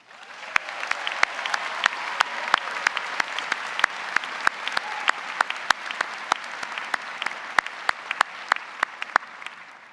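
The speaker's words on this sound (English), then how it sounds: "that deserves a huge round of applause" Sustained applause from the crowd at a public health graduation ceremony, even and continuous throughout, with sharp individual claps standing out near the front.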